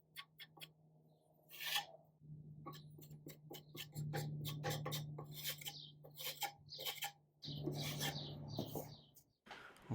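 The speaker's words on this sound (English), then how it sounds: "Once I'm done wood filling all of the imperfections" Scraping and rubbing of a putty knife spreading wood filler over imperfections in wood for a bunk bed build, in irregular close strokes over a steady low hum, with brief pauses between passes.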